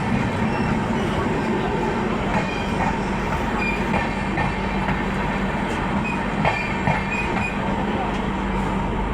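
The Gitanjali Express rolls along just after leaving Raigarh, a loud continuous rumble with rhythmic wheel clacks over the rails and a low steady drone throughout.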